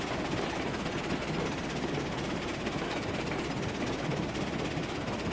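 A locomotive in RailRoads Online running on flat track, a steady continuous rumble and rolling wheel noise with no breaks, moderately loud and with no talking.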